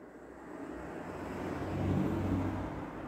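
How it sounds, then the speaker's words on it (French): A car passes on a nearby road, a broad low rumble that swells to a peak near the two-second mark and then eases off, with no one talking. "Désolé encore pour la voiture qui passe."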